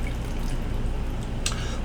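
Water is drained from a pan of leeks, making a steady, close splashing rush of liquid with a brief sharper drip near the end.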